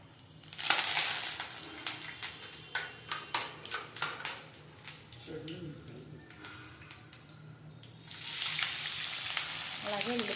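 Two sprigs of curry leaves drop into hot oil with already-fried tempering spices, giving a crackling sizzle with sharp pops. Stirring sounds follow, a voice speaks briefly, and a louder, steady sizzle swells near the end.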